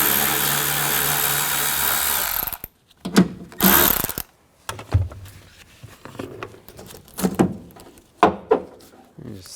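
Power tool whirring out screws from a door speaker with a 7mm socket on a Ford E-250 van, a steady loud run followed by several short bursts with pauses between.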